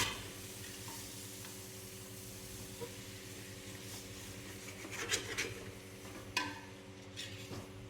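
Goat tripe curry frying in a pan while it is stirred, with a steady sizzle throughout and scraping strokes of the spoon, two louder knocks standing out near the end.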